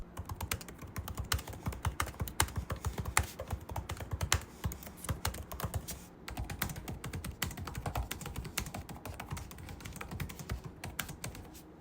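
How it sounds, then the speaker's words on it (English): Typing on the keyboard of a Huawei Matebook 14S laptop: a steady, fast run of close, crisp key clicks and thuds lasting the whole stretch, with a brief pause near the middle and no talking. "here's a typing test sound compared to the MacBook."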